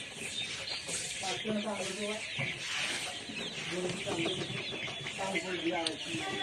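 About 3000 brown layer pullet chickens cluck and chatter together on a poultry farm in a dense, continuous din, with overlapping calls filling the space like a crowded poultry house.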